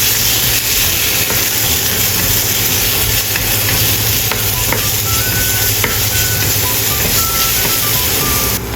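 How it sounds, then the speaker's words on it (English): Chopped garlic stir-fried with ginger in a pan, a loud continuous sizzle and hiss with faint stirring scrapes throughout, no voices. "Add chopped garlic and stir-fry."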